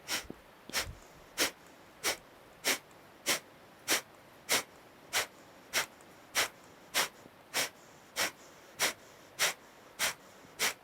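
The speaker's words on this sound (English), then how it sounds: "Inhale the breath. Kapalabhati." Kapalabhati yoga breathing: a steady run of about sixteen sharp, forceful nasal exhalations, evenly spaced roughly every half second, close and clear over quiet background with no talking.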